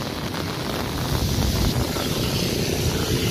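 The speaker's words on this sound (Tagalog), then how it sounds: "Malakas-lakas po din po yung ulan. Medyo may kasama pong hangin." Heavy rain and gusting wind roar in a continuous dense wash outdoors in Metro Manila, loud and close with rumbling buffeting against the microphone.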